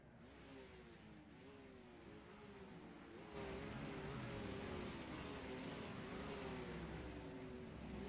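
Porsche Carrera Cup race cars idle and rev on the starting grid at Road America in a racing game, engine tones rising and falling together, then swelling louder into a steady massed roar with no talking.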